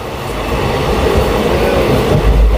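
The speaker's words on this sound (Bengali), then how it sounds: "আমাদের ট্রেন ক্রস করছে পলতা স্টেশন।" A suburban train in West Bengal running past Palta station, heard from inside the carriage as a steady, loud rumble and rattle that continues without a break, with no talking.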